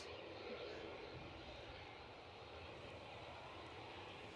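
A departing aircraft at Edinburgh airport gives a steady, broad engine roar that holds at a moderate distance throughout, with faint voices in the background.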